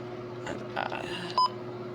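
A short, sharp electronic beep from a Midland WR120 NOAA weather radio rings out near the end, following a few soft button clicks over a faint steady hum.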